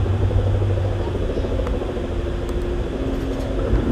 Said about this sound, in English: This helicopter.